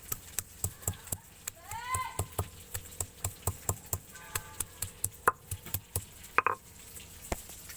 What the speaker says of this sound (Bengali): এগুলো ছিলে আমি খেতো করে নিচ্ছি